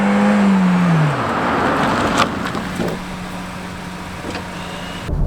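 A Renault Samsung XM3 1.6 GTe under full braking: loud, close engine and road noise with a descending tone that winds down over the first second, followed by a steady lower drone and tire rumble, with no talk.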